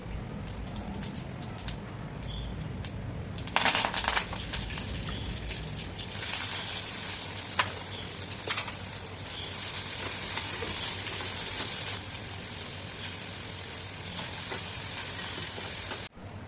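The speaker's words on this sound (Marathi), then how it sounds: "आता आपला हा कांदा छानपैकी तळून निघालेला आहे" Onion fries in two spoons of oil in a kadhai after a tempering of cumin, mustard seeds and curry leaves, giving a steady close sizzle with louder crackling bursts throughout.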